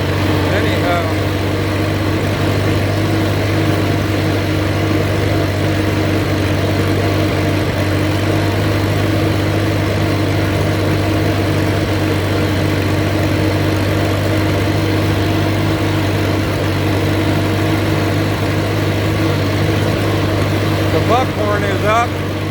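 An Allis-Chalmers C tractor engine runs steadily while mowing a field of buckhorn, a loud continuous low drone with an even hum that holds unchanged throughout.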